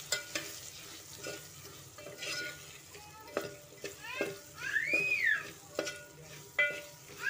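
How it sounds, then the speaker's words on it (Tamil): Chili powder, asafoetida and sambar powder for a palak curry are stirred in hot oil: a quiet sizzle broken by repeated sharp spatula scrapes and clicks against the pan, including one squeaky drawn-out scrape, close by. "பெருங்காயத்தூள், சாம்பார் பொடி போட்டு நல்லா வதக்கி விடுங்க."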